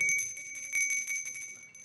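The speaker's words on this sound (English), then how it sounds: "Senator Vuich would keep this bell, this very same bell, at her desk" A small desk bell from the California State Senate rings out with bright, sustained metallic tones that decay slowly, fairly quiet and heard alone.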